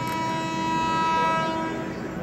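An Indian Railways superfast express, the Thiruvananthapuram–Hazrat Nizamuddin service, sounds a long steady horn blast at a station, loud and sustained for the whole span over a bed of platform bustle.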